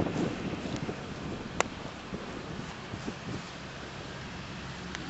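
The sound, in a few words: wind blowing outdoors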